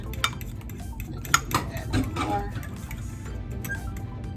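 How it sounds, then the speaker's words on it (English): A whisk clinks and scrapes against a bowl while lemon bar mixture is beaten, giving quick irregular metallic taps close by, with a person talking over it. "Make sure this is all whipped up together here."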